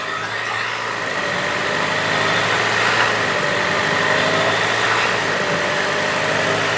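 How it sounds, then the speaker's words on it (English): A 2020 Land Rover Evoque engine idling in park with an abnormal noise, a steady continuous drone with a broad rushing hiss throughout, no speech. "I just started the vehicle and it's idling in park and it's doing this."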